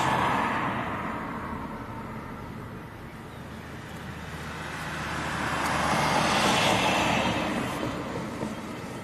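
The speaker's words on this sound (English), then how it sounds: "next departure, this is Ryanair to Tenerife South. This is also a MAX." A Ryanair Boeing 737 MAX departs from a windy airport, its broad engine roar swelling from a steady rumble to a louder peak near the end, mixed with wind noise and no talking.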